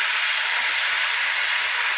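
Spray paint hisses steadily onto a small wooden mini bat, a loud close continuous spray with no pauses.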